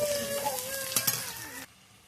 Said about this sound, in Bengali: পেঁয়াজগুলো একটু ভাজা ভাজা হলেই ভুড়ি কাটাগুলো দিয়ে দেবো।